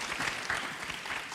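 Audience applause at a conference in Berlin, a dense, steady wash of many hands clapping together at close range, filling the whole short moment without pause.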